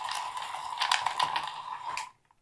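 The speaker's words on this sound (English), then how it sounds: "it's a good little shuffler" A 3D-printed motorized card shuffler runs for about two seconds, giving a steady whirring, clicking mechanical rattle as the cards riffle through, then cuts off abruptly into silence.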